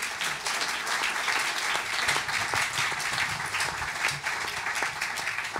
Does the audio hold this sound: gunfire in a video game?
no